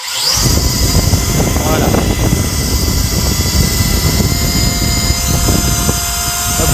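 A DEERC D10 beginner camera drone spins up and runs, its small motors producing a steady, loud high-pitched whine with a buzzing drone that holds constant for several seconds after starting, with someone speaking briefly over it.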